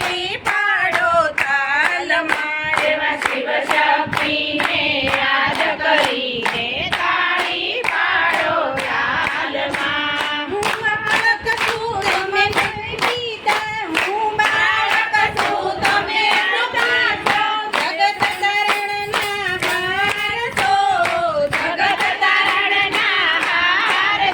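Hands clap in a steady, even beat throughout a devotional bhajan kirtan at a satsang, the crisp group claps ringing out in time with a sung melody.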